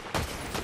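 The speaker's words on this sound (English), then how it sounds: "you got shot at by someone" Two quick bursts of gunfire in the video game Fortnite, moderately distant, the second slightly fainter than the first.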